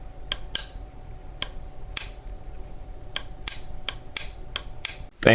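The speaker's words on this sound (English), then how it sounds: "And just so you can hear the clicking a little bit more." A Perun V3 clicker trigger inside an airsoft AEG AK replica gives about a dozen crisp, quiet, irregularly spaced clicks at close range with no talk, and a louder mechanical burst follows at the very end.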